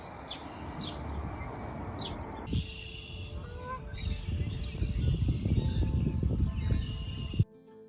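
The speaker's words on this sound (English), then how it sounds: "I can hear birds chirping in the background." Birds chirp and tweet sporadically in the background over a steady outdoor rumble, with faint bird calls scattered throughout.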